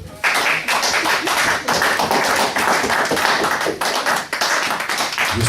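Church congregation at a Sunday service applauding: sustained, loud and dense clapping from many hands, steady throughout with brief dips, no voices over it.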